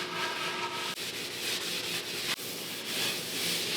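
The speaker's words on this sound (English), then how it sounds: "I'm gonna go ahead and wipe it down to get any extra residue off" A cloth wipes down an oiled wooden charcuterie board in repeated close rubbing strokes, a steady scratchy swish broken by a couple of brief pauses, with no talking.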